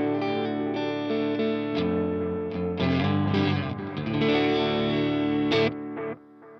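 Electric guitar through an Orange Getaway drive pedal, lightly overdriven chords and picked notes that swell and ring close and loud, gaining a slight grit on harder strums before trailing off at the end.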